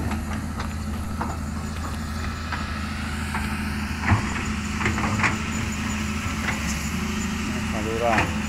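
Truck engine idling low and steady at roadside drainage and road-shoulder works, a continuous rumble close by with scattered clanks and background voices over it.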